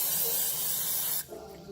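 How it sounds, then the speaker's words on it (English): A short, close hiss of an aerosol cooking spray, lasting about a second before cutting off, followed by quiet room noise. "I'll spray like Pam throughout it while I'm seasoning"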